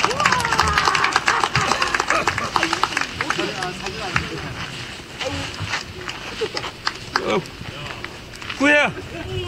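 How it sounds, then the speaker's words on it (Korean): Clapping from a crowd at an alumni sports day of a high school, mixed with loud announcer talk and crowd chatter, the applause fairly brief and partly masked by the voices. "많은 박수와 같이 부탁드리겠습니다"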